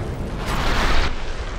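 Grenade explosion in the video game Tom Clancy's Ghost Recon, a loud, close, broad rumbling blast that swells and rolls off over about a second, with no talk over it.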